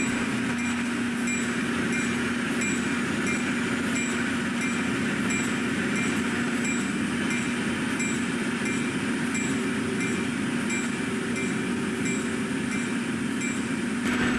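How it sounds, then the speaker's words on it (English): Two GP40-2 diesel locomotives towing an ex-Central Railroad of New Jersey Pacific steam locomotive and cars rumble past steadily, with a constant low engine drone and rolling rail noise, moderately loud and continuous throughout, no voices. "Two GP40-2s has ex-Central Railroad of New Jersey Pacific locomotive 810 in tow"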